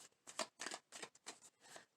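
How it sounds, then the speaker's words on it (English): Tarot cards are being shuffled by hand, a quiet rhythmic series of about seven short riffling bursts at close range, with no speech. "I'm going to feel like shuffling this a little bit more."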